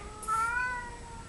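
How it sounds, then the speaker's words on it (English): A pet cat gives one clear, fairly close meow, short and alone in a quiet room. "That's my cat."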